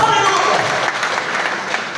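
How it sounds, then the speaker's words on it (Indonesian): Church congregation applauding during a Sunday morning worship service, a dense, steady wash of clapping that fills the whole stretch at close range. "Kita berikan tepuk tangan buat Tuhan."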